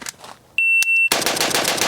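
Rapid gunfire from a PSA AK 102 rifle chambered in .223, a loud close burst of overlapping shots that follows a brief high electronic beep, likely a shot timer, on an outdoor range.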